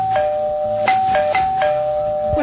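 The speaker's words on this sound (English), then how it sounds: "That sounds like the character doorbell, isn't it?" Doorbell rings out during a radio talk show broadcast: several clear electronic chimes in quick succession, a sustained tone with a fresh strike every half second or so, loud and close with no talking over it.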